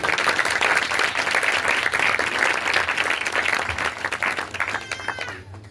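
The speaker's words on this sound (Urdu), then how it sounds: "زوردار تالیاں یسوع مسیح کے لیے" A church congregation at a Christmas service in Youhanaabad, Lahore, bursts into loud sustained applause, dense clapping that holds strong for several seconds before thinning and fading away near the end.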